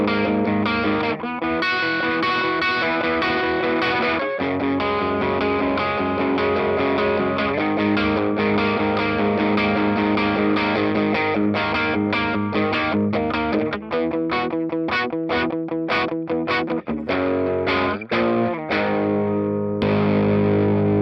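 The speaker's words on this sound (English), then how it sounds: "There's the boost, huh?" An electric guitar runs through a booster pedal, giving a loud, driven, slightly distorted tone as chords and single notes are strummed and picked continuously, ending with a quick run of choppy stabs.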